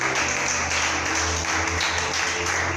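A congregation at a French-language church conference applauds steadily to acclaim God, a dense continuous wash of clapping over a low hum, with music or a faint voice underneath.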